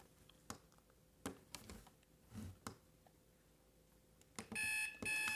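An old clock being unboxed sets off its alarm, which starts up near the end as a loud, bright ringing after a few quiet clicks and taps.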